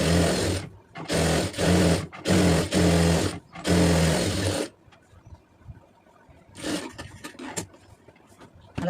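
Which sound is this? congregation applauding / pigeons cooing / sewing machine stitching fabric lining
sewing machine stitching fabric lining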